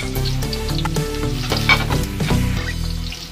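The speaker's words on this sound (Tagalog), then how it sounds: "Siguraduhin na brown na yung bawang na ginigisa natin" Garlic sautéing in hot oil for chicken adobo gives a steady, close sizzle, with light clinks and scrapes of stirring running through it and nobody speaking.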